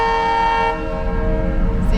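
A train running through a city street in the Polanco district of Mexico City blares its horn loudly and close by, a steady multi-tone blast that cuts off partway, leaving rumbling engine and street noise behind.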